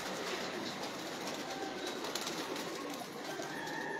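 Soft pigeon coos sit under a broad, steady hiss of background noise, faint and continuous with no talk, from a large pigeon.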